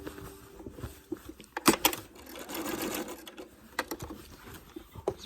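A sewing machine stitches down appliqué star pieces on a quilt in short, uneven bursts of rapid ticking between pauses, close and fairly quiet, with small clunks from fabric being moved.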